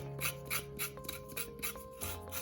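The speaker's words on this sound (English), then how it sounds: "Just scrape all the thin outer layer" A knife rhythmically scrapes the thin outer skin off a raw carrot, a series of soft rasping strokes repeating about twice a second, close and quiet with no talking.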